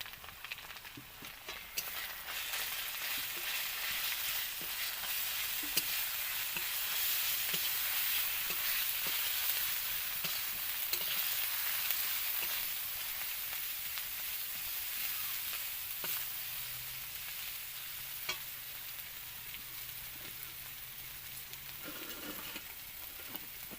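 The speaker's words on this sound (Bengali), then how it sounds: "আর দিচ্ছি লবণ হলুদ আর লঙ্কার গুঁড়ো ভালো করে সব কিছু মশলা আমি কষিয়ে নেবো" Ginger-garlic paste with salt, turmeric and chili powder sautés in a wok, hissing in a dense, continuous sizzle with occasional stirring scrapes, close up, with no voices.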